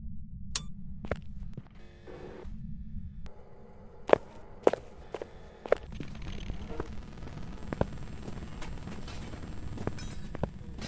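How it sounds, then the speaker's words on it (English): Footsteps of a ghost in the Phasmophobia video game thump in an uneven series, some sharp and loud, over a low game hum, with occasional faint speech. "I would say its footsteps are too loud"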